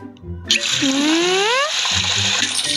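Water gushes from a tap into a sink, a loud steady splashing with a rising tone as the basin fills, starting abruptly and running throughout.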